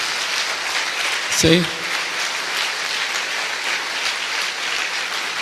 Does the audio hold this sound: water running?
no